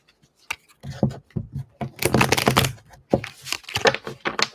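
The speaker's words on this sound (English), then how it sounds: "Let me just shuffle the deck a little bit." A deck of tarot cards is shuffled close by, with dense riffling flutters and papery snaps in quick bursts and a few brief pauses between them.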